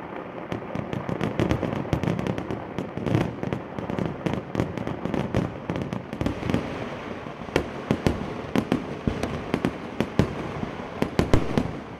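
Sample fireworks at Thrissur Pooram, with bombs, aerial shells and ground bursts exploding in a dense, continuous barrage, sharp cracks and booms overlapping over a rumbling background, loud and relentless throughout.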